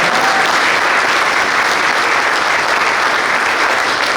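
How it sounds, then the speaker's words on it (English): A round of applause for Wendy at a boys lacrosse banquet in Baldwinsville: loud, dense, continuous clapping from a packed room, unbroken and steady throughout. "Give Wendy a round of applause as well"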